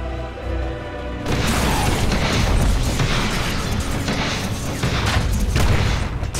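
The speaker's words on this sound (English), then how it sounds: "Dire's top tower has fallen." A tower collapses in the video game Dota 2, a sudden loud booming crash followed by a sustained rumbling roar of crumbling debris and explosions over ongoing game sounds.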